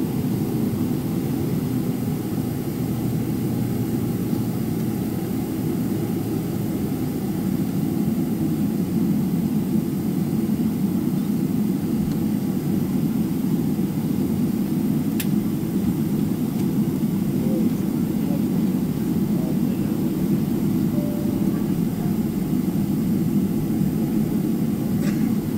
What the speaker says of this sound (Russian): Самолет выруливает на взлетную полосу.